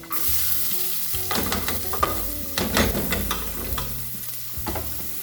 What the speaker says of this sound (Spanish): Un punto de ajo. Doramos un poco.